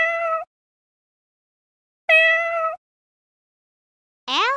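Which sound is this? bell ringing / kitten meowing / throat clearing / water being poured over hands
kitten meowing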